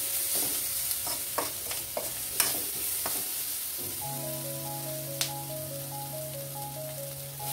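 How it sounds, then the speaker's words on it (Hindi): Spices roasting in a pan over a low flame for a sambar, giving a steady soft sizzle with a few sharp clicks and scrapes of stirring early on, then a calm hiss under a faint steady tone. "फ्लेम को थोड़ा सा लो पे ले लेंगे। कुछ सेकंड के लिए भी थोड़ा भून लेते हैं मसाले को।"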